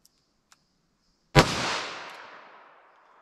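A single sharp gunshot from a .22 Magnum revolver with a 3-inch barrel, a loud close crack preceded by two faint clicks, then a long fading echo ringing out over roughly two seconds.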